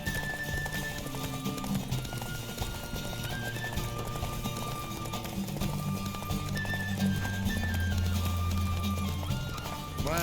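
Galloping horse hooves pound steadily through a race in The Witcher 3, a continuous clip-clop rhythm under game music with an occasional whinny.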